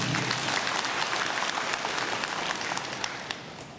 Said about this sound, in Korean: 여러분 동의하시는 박수 한번 주세요